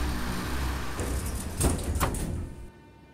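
Sliding doors on an 81-717 metro train close in the game Moscow Metro Simulator 2D, on the Zamoskvoretskaya line. A steady rushing hiss carries two sharp thuds close together, then cuts off to quiet.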